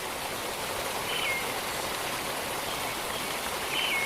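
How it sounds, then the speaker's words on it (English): A jungle waterfall roars as a steady, broadband rush of falling water, loud and constant from start to end, with faint bird chirps briefly audible above it and no talk. "I hear it. The waterfall."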